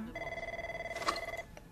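A telephone rings once in an indoor setting, a steady electronic two-tone trill lasting a little over a second, moderately loud and heard alone.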